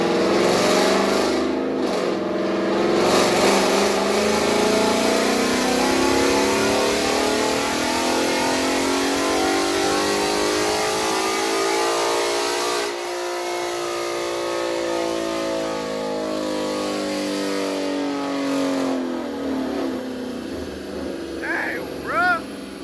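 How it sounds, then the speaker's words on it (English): A retuned 5.0-litre car engine revs hard and loud, pitch climbing steadily through long pulls, dropping briefly and rising again, with no pauses. "the car is ripping so much"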